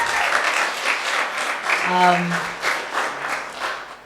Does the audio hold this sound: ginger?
no